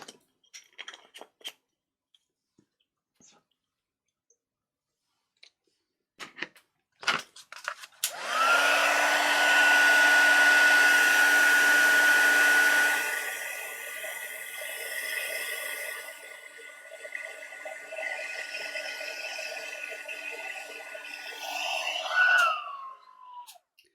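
A heat embossing gun blows hot air over embossing powder, a loud, steady whooshing roar that starts after some light handling clicks, runs for about fourteen seconds, softens partway through and then cuts off.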